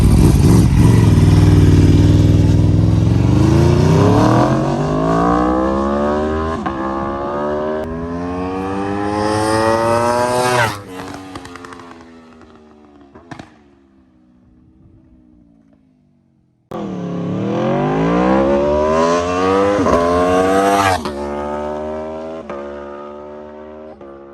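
An Aprilia RSV4-X motorcycle with a SPARK titanium exhaust roars past, its exhaust rising in pitch as it revs hard, fading into the distance, then another loud pass revs up again.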